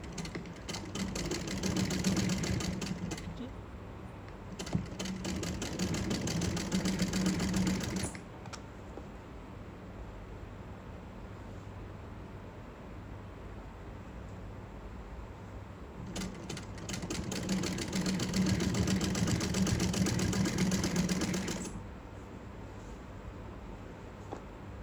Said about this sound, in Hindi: थोड़ा थोड़ा रखते जाएं और सिलाई लगाते जाएं